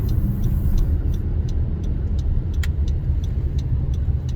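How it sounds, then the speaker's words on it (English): A car drives along a gravel country road, its low tire-and-engine rumble steady and close, broken by scattered sharp ticks of loose stones striking underneath. "Yes, we're driving on gravel."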